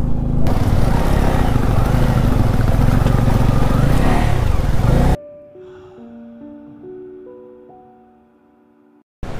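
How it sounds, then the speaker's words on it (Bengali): A motorcycle ridden on a mountain road in Nepal's Mustang valley gives a loud, steady engine drone with wind rush for about five seconds, then cuts abruptly to near quiet with a few soft sustained tones. "একাতে বাইক চালাচ্ছি"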